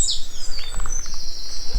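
Birdsong along a quiet country road in the Vale of Glamorgan: a few thin, high chirps and a sweeping whistle, clear but brief, over a soft outdoor hush.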